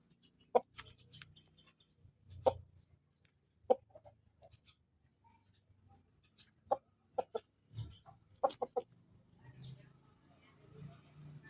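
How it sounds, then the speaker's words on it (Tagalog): A chicken clucks in short, scattered bursts, sharp isolated calls spaced over quiet moments, with faint low murmuring underneath. "Paikot-ikot na lang yung manok."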